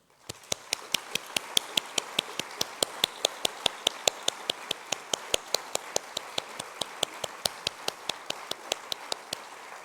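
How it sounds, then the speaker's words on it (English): Hands clap at a public talk on racism as speakers are welcomed, a steady, evenly spaced run of crisp single claps, about four per second, sounding alone against a quiet room. "Applause for them"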